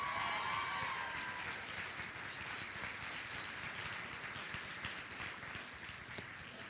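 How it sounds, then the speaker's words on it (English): Crowd applause at a LIFT 2018 event, a continuous even patter of many hands clapping at a fairly soft, distant level, fading slightly toward the end. "Can we get another round of applause for Miss Johnson, please?"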